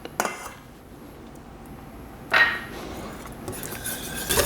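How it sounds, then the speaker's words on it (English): A whisk clinks and scrapes against a bowl while mixing cream cheese syrup with confectioner sugar and vanilla, a few sharp metallic taps over a soft, continuous stirring swish. "You just want to whisk it until it becomes a smooth consistency."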